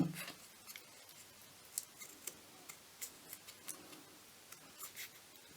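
Scissors snip paper in a series of short, crisp cuts at a steady, uneven rhythm while making Christmas advent tags, close and fairly quiet with no talking.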